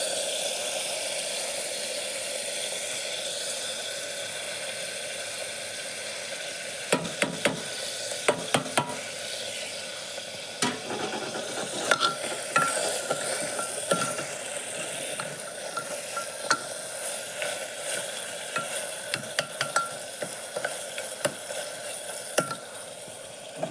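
Mutton with tomato, onion and masala sizzling in a pan, a steady frying hiss with occasional stirring clatters and scrapes throughout, close and moderately loud with no talking.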